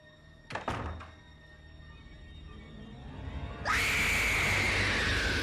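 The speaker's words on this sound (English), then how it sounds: "that scream came in louder than I thought it would" A loud, sustained scream from a TV episode cuts in suddenly about two-thirds of the way through and holds steady to the end, after a couple of short thumps and a quiet stretch.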